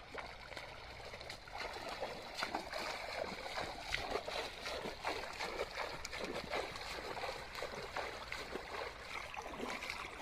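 Water runs steadily along an irrigation channel in a farm field on a foggy village morning, a continuous close gurgling and trickling flow with small splashy bursts, no talk over it.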